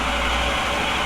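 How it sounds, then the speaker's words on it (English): A Royal Enfield Himalayan motorcycle fitted with a TEC cam idles steadily, a dense, even engine rumble heard close and alone with no voices. "the idling RPM is way more stable than it used to be"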